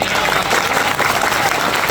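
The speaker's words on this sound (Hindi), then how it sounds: "जोरदार ताली बजाओ" Dense, steady applause from a seminar audience in Ranchi's Sohrai Bhawan fills the hall, loud and continuous throughout with a faint voice or two underneath.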